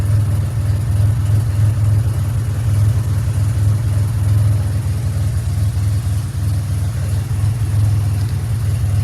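A 2007 Pontiac Grand Prix GT fitted with an XPZ cam idles steadily at close range, its deep, even engine drone holding constant with a slight lope throughout.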